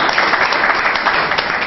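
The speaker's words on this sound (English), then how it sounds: "So let's give him a round of applause" Brief burst of steady audience applause at the unveiling of a mural at the Sierra Leone National Museum, dense and even throughout with no voices.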